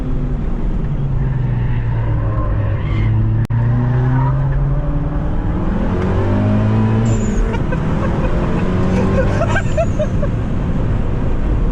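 A front-wheel-drive car drifting on a track, with loud, close engine roar rising and falling and long, sustained tire squeal over its whole length.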